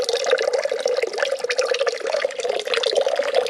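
Water dribbling from the drain of an Avalon bottom-loading water cooler into a bucket, a close, continuous splashing trickle with uneven spatters throughout.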